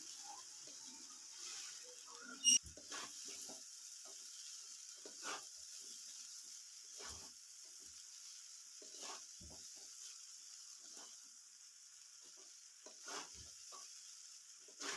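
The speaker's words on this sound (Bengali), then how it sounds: "2 প্যাকেট চাউমিন তো একটু মেশাতে অসুবিধা হচ্ছে, তাও আস্তে আস্তে ভালো করে মিশিয়ে নিতে হবে।" Two packets of egg chow mein are tossed with vegetables in a hot pan, with a spatula scraping in repeated strokes over a soft, steady sizzle. The sound is close and fairly quiet.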